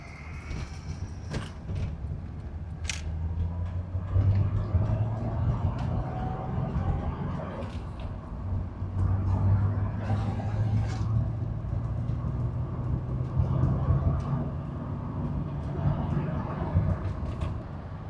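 A Toyota Supra's engine runs steadily while driving, a low continuous rumble with road noise, occasional creaks and light clicks throughout.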